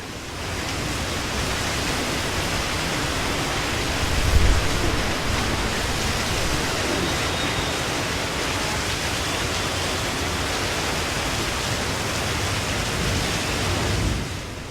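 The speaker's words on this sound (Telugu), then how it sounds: "హైదరాబాద్ లో కుండపోత వర్షం కురుస్తోంది" A torrential downpour over Hyderabad roars as a continuous broadband wash, loud and even throughout, with one slightly heavier swell partway through and no speech.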